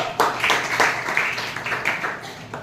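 A small group claps for a first vote cast in a classroom mock election, with a handful of loud, uneven claps close by and no talking over them.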